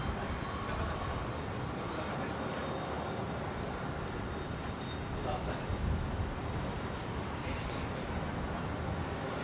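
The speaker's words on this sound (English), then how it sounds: "Looking at Jetstar 833 here, the 320 just arrived from Proserpine over on the new runway." Jetstar Airbus A320 arriving on the new runway at Brisbane Airport, a steady broad roar of jet engine and rushing air, heard from a distance and fairly loud throughout.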